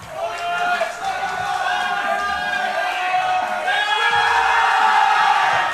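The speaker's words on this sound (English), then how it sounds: "The crowd is hyped." At a powerlifting championship deadlift, the crowd roars with sustained yelling, whooping and cheering that swells steadily louder over nearly six seconds.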